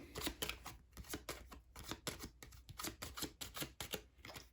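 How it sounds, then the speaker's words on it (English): Aeon's End game cards being shuffled by hand, a quick run of close riffling bursts in a steady rhythm, quiet and with no talk. "We're going to shuffle these up."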